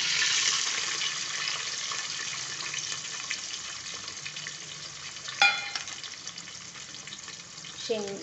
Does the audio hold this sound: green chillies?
yes